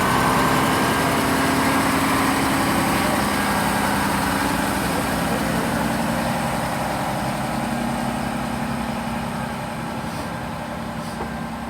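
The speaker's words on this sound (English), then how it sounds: "165-118, heading out now, which is on the 1614 service to Cheltenham Spa, starting here as it's departing from the bay platform" Class 165 diesel unit 165-118 pulls away from the bay platform at Swindon station, a loud, steady low engine drone that thins slightly toward the end, with no voices.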